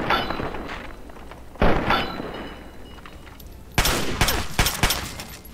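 Fallout 3 gunfire from a hunting rifle and a pistol: loud sharp shots, one early and a quick cluster of several later, with thuds between them.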